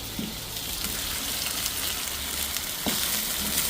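Ginger frying in a pan for a Filipino home-cooked dish, a continuous close hiss and sizzle with faint stirring clicks, no voices.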